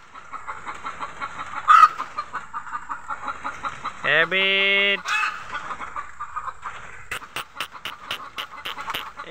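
Chickens kept near pet rabbits on a rainy afternoon cluck in short repeated bursts, with one loud, sustained call rising in the middle and a person talking briefly.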